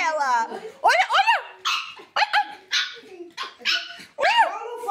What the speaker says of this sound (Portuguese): Até o Jé já tá brincando aqui com a cachorra.